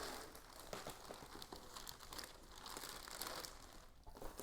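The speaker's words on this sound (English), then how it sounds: "it is wrapped in like a plastic saran wrap type of wrap here. Let me take that off." Thin plastic saran-style wrap crinkling and rustling close up as it is peeled off a Tesla Model 3 Aerodisc wheel cover, a steady run of crackles with a few sharper tears, no talking.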